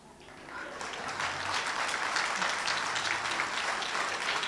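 Audience applause at a Hindi poetry recital, swelling in over the first second into a dense, steady wash of clapping from a sizeable crowd that holds for several seconds.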